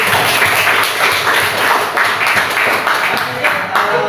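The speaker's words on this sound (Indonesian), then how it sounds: "Dan tepuk tangan dulu kali ini." Applause in an Islamic studies class session in Indonesia: dense, steady clapping from a group of students, loud and continuous throughout with no clear pauses.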